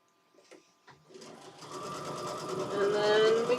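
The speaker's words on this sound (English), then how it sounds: "Give a couple stitches, a couple back stitches." A domestic sewing machine stitching forward and back at the start of a seam, starting in short bursts and then running steadily louder and closer, with a faint voice early on.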